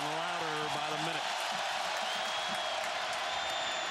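Football stadium crowd at a 2009 Clemson vs Florida State game swells into a loud, sustained roar of cheering and clapping, with a voice briefly heard at the start.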